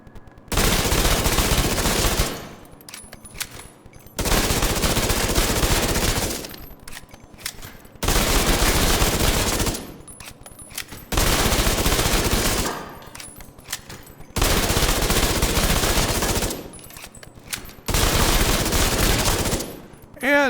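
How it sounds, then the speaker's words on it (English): An M1928 Tommy gun in The Division 2 fires long sustained bursts, six loud, rapid automatic strings of about two seconds each, separated by short pauses, close and dominant throughout. "So Tommy gun is going first on the headshots"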